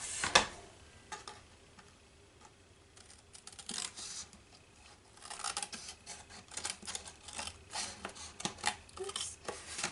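Paper being trimmed with scissors for a floral postcard made from Canvas Corp papers, a run of quiet, crisp snips and rustles that grows busier in the second half, close and unaccompanied by speech.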